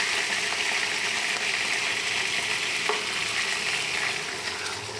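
Daing na bangus, a marinated milkfish, fries in a pan of hot oil with a dense, continuous sizzle and crackle that holds steady and eases slightly near the end.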